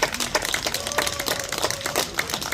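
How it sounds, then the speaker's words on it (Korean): Audience clapping at a lecture on barefoot walking, dense overlapping claps at close range with a faint sustained tone running through the middle. "여러분들 박수 쳐주세요"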